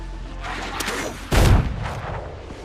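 Gunfire in the pirate video game Windrose, a sharp, loud burst of shots about midway through, standing out over a steady background of battle noise.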